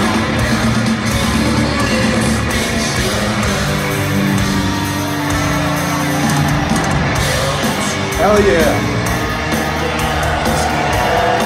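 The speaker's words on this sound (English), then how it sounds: "Crowd's going crazy." A crowd at a 2023 reunion concert roars, cheers and yells continuously and loudly, with a voice speaking briefly over the din.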